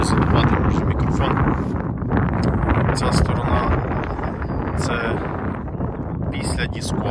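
Gusty wind buffets the microphone in a constant low roar over a farm field, with a voice talking over it.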